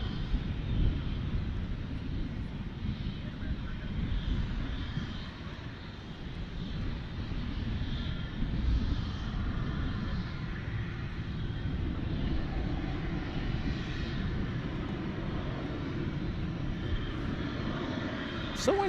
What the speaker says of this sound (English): it looks like this A300's got the go-ahead to take off to Louisville